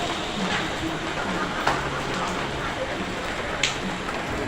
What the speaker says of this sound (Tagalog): nabasa kami sa ulan